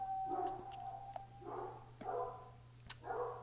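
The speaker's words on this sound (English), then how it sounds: "I just heard some barking right at that point." A dog barks a few short, faint times over a steady low hum, sounding distant and muffled in a quiet room.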